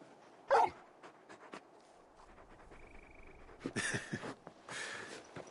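A large dog companion in Final Fantasy XVI whimpers and pants softly. Short yips and breathy bursts come close by in a quiet scene.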